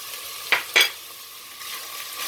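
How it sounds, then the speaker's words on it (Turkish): A spoon stirs pepper paste and tomato paste frying in a pan for a minced-meat okra dish, giving two quick scraping strokes over a soft, steady sizzle. "Tekrar karıştırıyoruz. Salçaların lezzeti çıksın."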